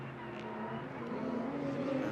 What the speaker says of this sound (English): that's Laurent van der Velde in the Q1 track racing Porsche